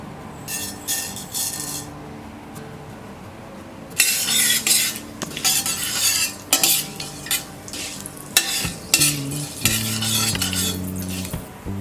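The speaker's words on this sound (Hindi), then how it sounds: "तेल गरम हो गया है। अब हम इसमें डालेंगे ये मेथी दाना" Fenugreek seeds hit hot oil in a pan for pumpkin sabzi, crackling and sizzling loudly, then metal spoon stirs and clinks against the pan repeatedly.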